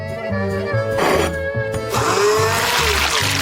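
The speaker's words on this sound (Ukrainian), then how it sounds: "Кладемо рибу в блендер і подрібнюємо." Blender chopping fish, a loud motor whir with a pulsing, grinding rhythm that rises to a harsher, busier roar midway through.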